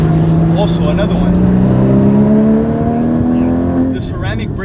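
Flat-six engine of a 2016 Porsche 981 Cayman GT4 on Cup 2 tires and ceramic brakes, accelerating loud and close with a steadily rising engine note through about four seconds before easing off.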